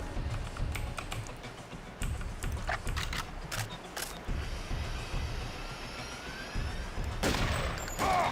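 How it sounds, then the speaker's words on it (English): Rifle gunfire in a video game battle: scattered sharp cracks that are mostly faint, spaced irregularly over a steady background, with one heavier blast near the end. "It's a rifle battle."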